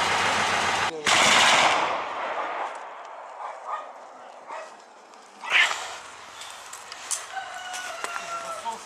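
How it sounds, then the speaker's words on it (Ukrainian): A firefight in the center of a village near Shyrokyne, with small-arms shots and heavy machine gun bursts cracking at a distance, a loud burst early then scattered sharper reports amid outdoor background noise. "Зараз ми чуємо на центральній частині селища, де перестрілка зі стрілецької зброї, а також крупнокаліберних кулеметів."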